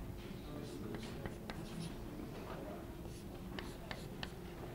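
Chalk or marker drawing a chemistry substrate on a lecture board, faint scattered scratching strokes in a quiet room.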